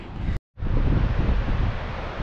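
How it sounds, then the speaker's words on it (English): Strong wind buffets the microphone on a beach at Crooklets, a steady loud roar with surf mixed in and a brief dropout near the start. "See how windy it is today"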